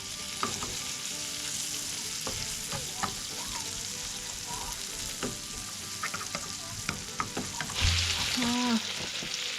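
Bacon frying in a pan while cooking at a forest house in rainy, windy weather: a steady sizzle with scattered pops and scraping stirs, plus a few short thumps near the end.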